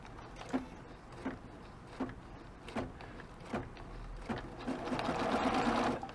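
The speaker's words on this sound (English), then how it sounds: "I'm going to go and hit the start button on the machine. It's going to put the foot down and start doing those tie-in stitches." A Bernina B990 sewing machine lowering its foot and making tie-in stitches for an edge-to-edge pattern: a soft, steady series of evenly spaced mechanical clicks that builds into a louder continuous whir near the end.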